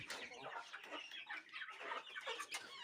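Young poultry chicks in a farm brood peeping and clucking together, a busy, faint chorus of overlapping high chirps throughout.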